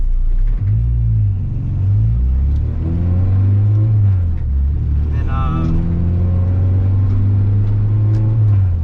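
An Acura RSX engine drones and rumbles steadily while driving, rising and falling with revs, heard from inside the car with a person talking over it.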